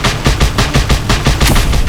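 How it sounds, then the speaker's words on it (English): Rapid, loud bursts of flak cannon fire aimed at a helicopter in Just Cause 2, shots coming in a steady, evenly spaced stream that fills the whole moment with no talk over it. "Incoming hostile chopper. Use the flak cannon."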